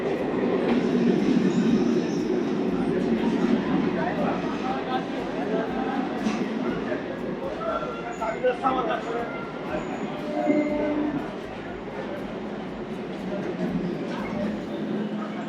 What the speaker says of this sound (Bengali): নির্ধারিত সময় থেকে 2 মিনিট আগে আমাদের ট্রেন এসে পৌঁছালো হলো লক্ষ্মীকান্তপুরে